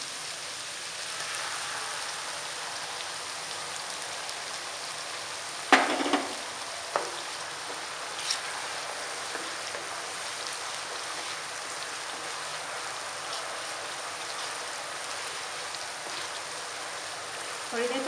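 Onions fry with ginger garlic paste in a pan for chana salan, giving a steady rain-like hiss of sizzling oil throughout, with a couple of clanks from a spoon partway through.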